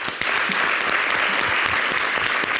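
A studio audience on a French television programme applauds, a dense continuous burst of clapping lasting under three seconds, loud and near, with no talk over it.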